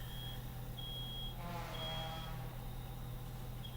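A smoke alarm at a campground gives repeated high beeps in an even rhythm, faint and distant over a low steady hum, with a soft whooshing swell partway through.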